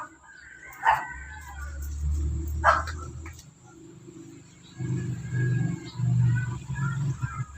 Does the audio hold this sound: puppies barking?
yes